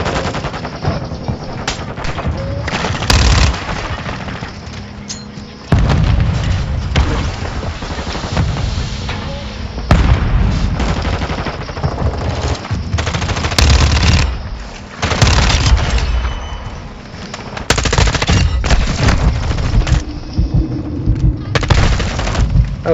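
Rapid video game gunfire with automatic bursts and heavy booms, including gunship fire, rattling loud and near almost continuously with brief lulls.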